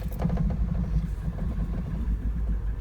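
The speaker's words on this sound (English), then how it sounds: "now we're going to start this up, let it idle for a few seconds" A Honda Del Sol engine starts slowly after a Seafoam treatment, then rumbles low and steady at idle, close by, with a rough pulsing beat and no voices.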